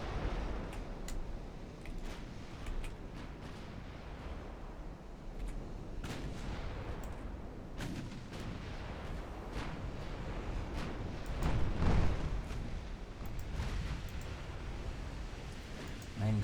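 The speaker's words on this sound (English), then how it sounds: "as main and secondary guns opening fire" Battleship main and secondary guns fire in the naval warfare game Ultimate Admiral Dreadnoughts, a dense, steady rumble of distant cannon blasts with a stronger burst midway, partly under low talk.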